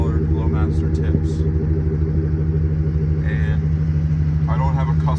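A Chevrolet Silverado truck with a Flowmaster 40 series muffler and black tip idles with a steady, deep, throaty rumble close by, while a person talks over it.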